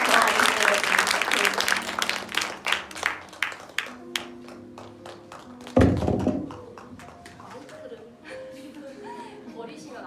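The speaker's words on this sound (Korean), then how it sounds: "뜨겁게 박수 한번 해주세요" An audience at a Korean author talk and book event breaks into warm applause, dense clapping that thins into scattered claps, with a loud thump partway through and voices over the fading end.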